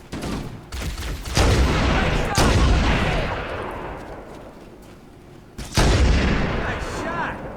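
Loud bursts of gunfire and booming blasts in the Halo video game, heavy volleys in several waves with brief gaps between them.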